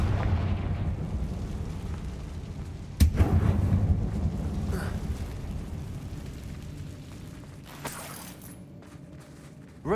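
A Confringo blasting spell explodes inside an old mine in the video game Hogwarts Legacy, with one sudden boom followed by a rumbling fade and a second, smaller burst later.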